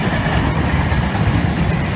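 A train passing on a UK railway line, a steady loud rumble of wheels and carriages with faint clickety-clack, close by and without talking.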